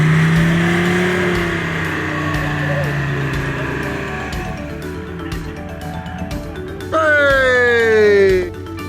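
Off-road vehicles churning through a snow drift on the Pennines, engines droning loudly and steadily, then one revs up sharply in a rising whine before dropping away.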